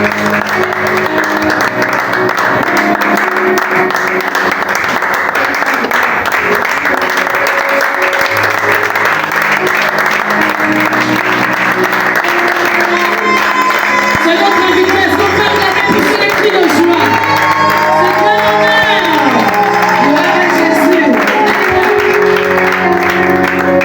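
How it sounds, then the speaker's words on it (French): A congregation at a church youth seminar applauds and cheers loudly and continuously, with crowd voices and a speaker's raised voice over the clapping. "On acclame véritablement le Seigneur."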